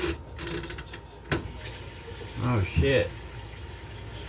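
A washing machine that won't drain fills with water, a steady rushing flow under a startled spoken exclamation and some clunks.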